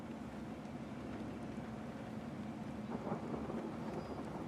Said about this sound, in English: See if you can hear the thunder, let me know.